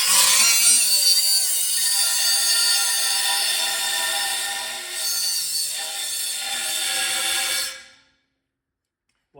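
A power grinder cuts off the air injection smog tubes on a Corvette L98 engine, a loud continuous high whine lasting about eight seconds with a brief dip midway before it stops abruptly into silence.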